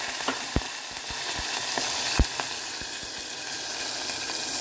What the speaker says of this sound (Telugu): ఇప్పుడు జీలకర్ర మంచిగా ఫ్రై అయింది కదా, ఉల్లిగడ్డ, పచ్చిమిర్చి మొత్తం వేసాం.